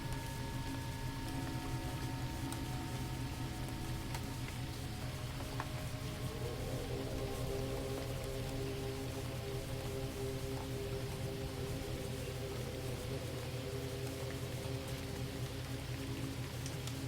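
Steady rain falls in fine threads across a barn doorway near a stable, a soft, even wash of drops that continues unbroken and alone for the whole stretch, with no voices.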